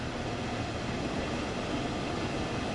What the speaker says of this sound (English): it's being pushed along by the electric locomotive at the back